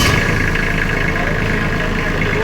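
A Kubota mini tractor engine runs at a steady idle, a continuous close mechanical rumble with even vibration throughout.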